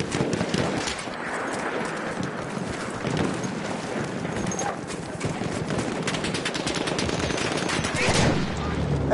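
Machine gun fire in Battlefield 1, a dense continuous rattle of rapid bursts layered with other battlefield gunfire and clatter, loud and close throughout, with no voices.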